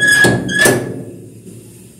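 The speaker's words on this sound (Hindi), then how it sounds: "और ये खुल गया मेरा दरवाज़ा।" A household door in a Gujarati home swings open with two squeaky creaks and a soft thud, close and fairly loud, then a quiet tail of room noise.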